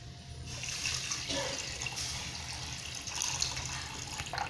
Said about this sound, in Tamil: இப்போ நம்ம தேவைக்கேற்ப தண்ணி ஊற்றிக்கலாம்